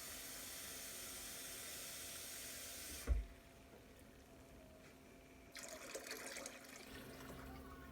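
Tap water runs into a measuring cup while onion soup is being made: a quiet room, one soft thud, then a steady splashing stream that starts partway through.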